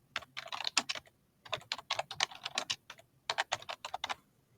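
Fingers type rapidly on a computer keyboard, close and crisp, in three quick bursts of clicking keystrokes separated by short pauses, with no voices.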